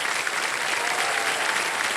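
A studio audience on a TV quiz show applauds a contestant, a dense, loud and continuous wash of clapping with no individual claps standing out.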